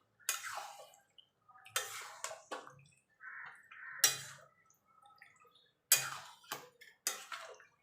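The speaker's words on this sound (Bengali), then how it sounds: "এবার সেই গামলাটা ধুয়ে আমি জলটা দিয়ে দেবো।" Water splashing and dripping as a bowl is rinsed and the water poured into marinated mutton for a thin curry, in a series of short separate bursts with quiet gaps, fairly close.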